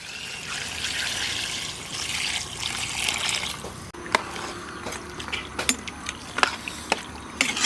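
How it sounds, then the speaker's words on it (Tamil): Water poured into a pot of home-style beef curry with tomato and onion, a soft continuous pouring wash that then gives way to scattered drips and light clinks near the end. "கறி வேகிறதுக்கு தகுந்த தண்ணி ஊற்றிக்கிறலாம்"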